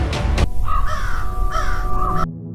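Crows caw harshly from a roost atop leafless trees, two drawn-out calls following a loud rough burst, close and clear with no talk over them.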